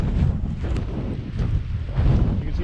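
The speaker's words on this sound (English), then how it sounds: "I have to walk with one hand holding on my hat because it's that windy." Strong desert wind in the Mojave buffets the microphone with loud, low, continuous rumbling gusts that rise and fall over a few seconds, with nobody speaking.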